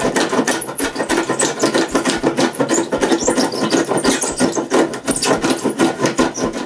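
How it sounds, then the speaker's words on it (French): Hand plane smoothing wood for trestle legs: a steady run of quick rasping strokes, close and loud, repeating rhythmically without pause. "Puis je mets la joue droite et lisse avec un rabot."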